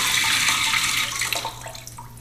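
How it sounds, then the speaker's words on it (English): Water rushing through the fill valve of a Kohler toilet being flushed of debris, a loud, close, steady gushing hiss that thins and breaks into splashy trickles toward the end, with no talk. "get some water going through there"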